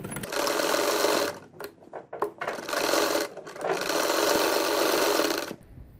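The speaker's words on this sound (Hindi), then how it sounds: "अब मैं गले को इस तरीके से फोल्ड करते हुए दोनों जानिब सिलाई लगा लूँगी।" Sewing machine stitching a folded boat-neck collar for a shirt, running in loud, fast bursts of close mechanical whirring, stopping briefly in between and then resuming for a longer steady run before it cuts off.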